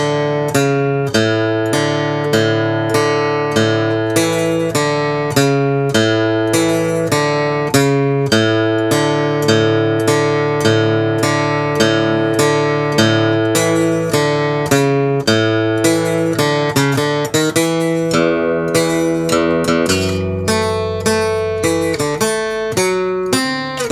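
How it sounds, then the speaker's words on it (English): A thumb-picked bass line on acoustic guitar for a song, steady alternating low notes ringing under sustained harmonics, played solo and close with an even rhythm. "So the bass line sounds like this."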